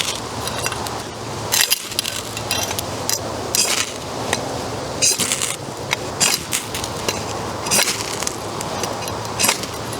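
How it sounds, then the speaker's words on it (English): A ferro rod is driven across the spine of a titanium-bonded stainless steel knife, giving a run of sharp, bright metallic scrapes in quick irregular strokes, fairly close and loud, with no talk. "Let's drive the rod across the knife"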